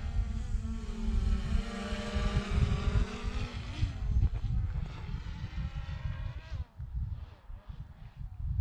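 A DJI Mavic Pro Platinum drone flying fast out by Tortugas Mountain, giving a high, buzzing whine with shifting harmonic pitch as it turns and passes, loud and fairly near, fading somewhat toward the end.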